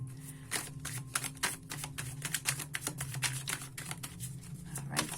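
Rapid, crisp riffling and flicking of tarot cards being shuffled, in quick bursts with short pauses, close and fairly quiet.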